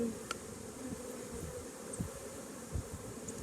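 Honey bees humming steadily around an open hive during an inspection, a soft continuous buzz with occasional louder passes close by, no talk.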